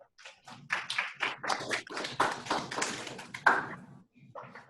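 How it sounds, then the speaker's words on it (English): Applause from an audience at an ARF industry awards event honouring program sponsors, a patter of scattered hand claps that swells and thins over a few seconds, fairly close. "Let's give them a round of applause"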